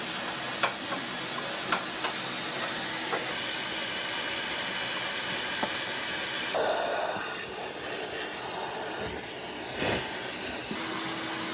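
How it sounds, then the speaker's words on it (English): A vacuum cleaner runs over a Franke Flair coffee machine, a continuous loud hissing whine that shifts in pitch as the nozzle moves, with small knocks and bumps against the machine and no talking. "I'm just going to give the whole unit a vac"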